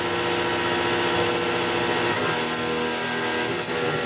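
A milling machine at about 3,600 RPM cutting a knife blade in RWL34 steel, a loud, dense, continuous whine with a steady grinding roar that stays even throughout.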